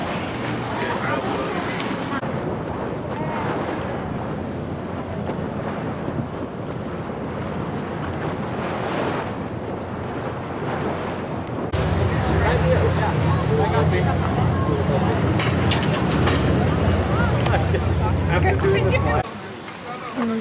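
A boat out on the sea near Positano, Italy, with steady engine and water rush under heavy wind buffeting on the microphone, growing louder partway through; talking can be heard over it.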